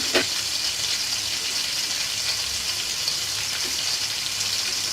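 Ginger garlic paste with onions sizzles in hot oil for gongura chicken curry, a steady close crackling hiss with a few sharper pops and spatters.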